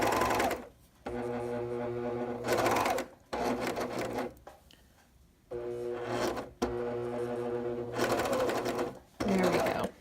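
A sewing machine stitches a curved hem in several loud, close runs of rapid mechanical whirring, with short pauses between them and a few soft clicks in the gaps.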